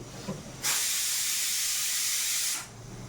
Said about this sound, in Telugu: ఇందాక నుంచి రానా రానవద్దా రానా అన్నట్టుంది కుక్కర్ సౌండ్